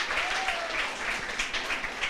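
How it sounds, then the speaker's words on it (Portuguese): Audience applause at a plenary session of a religious retreat, welcoming first-year postulants; steady, dense clapping fills the whole stretch at moderate level, with no talk over it. "Uma salva de palmas para eles."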